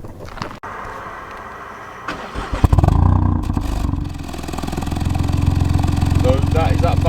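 A Ford Fiesta ST Mk8 hot hatch cranks and fires up, the engine catching with a loud rise and then settling into a steady, throaty idle heard up close.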